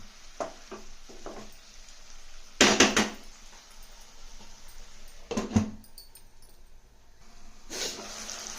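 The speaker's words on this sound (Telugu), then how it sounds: "చక్కగా ఇలా కలిపేసి ఒక్క నిమిషం మూత పెట్టేద్దాం" Okra curry being stirred in a pan, a spoon scraping and clattering against the metal in a few short knocks, ending with a lid set down over the pan, all moderately quiet and close.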